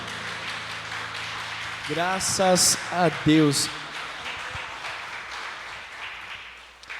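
A congregation at a Portuguese-language church celebration service claps steadily for several seconds under a voice speaking over a sound system.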